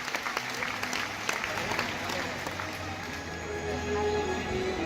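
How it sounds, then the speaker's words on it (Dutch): Spectators at a studbook stallion show applaud as a horse leaves the ring, sustained crowd clapping over several seconds with an announcer's voice and background hum beneath it. "we gaan afscheid nemen, dames en heren, met applaus van Marcus 491"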